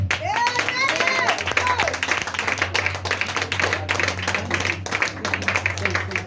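Hand clapping at a French-language Christian church service, rapid, close claps that carry on steadily while a voice talks over them.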